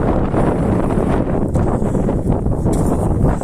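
Steady, loud cold wind buffets the microphone throughout, a continuous low roar and rush with no pauses.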